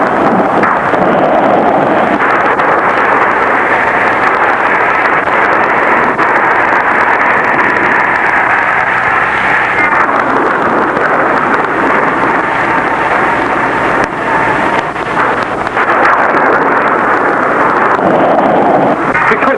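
Storm audio from an old Pakistani drama film: steady, loud roaring wind with rumbling noise filling the whole stretch, thunder-like swells blended in, and no voices.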